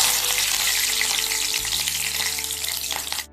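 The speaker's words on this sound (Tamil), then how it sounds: "கருவேப்பிலை எண்ணெய் கொஞ்சம் சூடாக இருக்கும்போதே போட்டு" Curry leaves fry in hot oil with masala peanuts, a dense steady sizzle and crackle that holds close and loud, then cuts off abruptly at the end.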